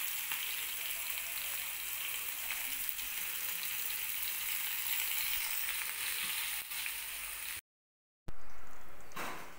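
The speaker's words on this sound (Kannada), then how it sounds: "ಜಜ್ಜಿಟ್ಕೊಂಡಿರೋ ಬೆಳ್ಳುಳ್ಳಿ ಹಾಕ್ತಾ ಇದ್ದೀನಿ. ಜೊತೆಗೆ ಸ್ವಲ್ಪ ಹಿಂಗು, ಘಮ ಬರೋದಕ್ಕೆ ಸ್ವಲ್ಪ ಹಿಂಗೆ ಹಾಕ್ತಾ ಇದ್ದೀನಿ" Crushed garlic and a pinch of asafoetida fry in hot oil, a loud continuous crackling sizzle that holds steady, cuts out briefly, then returns strong.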